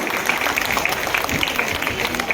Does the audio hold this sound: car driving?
no